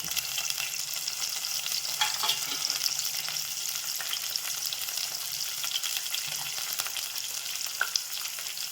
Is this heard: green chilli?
yes